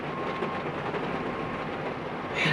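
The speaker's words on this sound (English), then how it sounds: "So it's starting to rain." Heavy rain drums steadily on a car roof at a roadside stop, a dense continuous patter with a low vehicle rumble beneath, swelling slightly louder near the end.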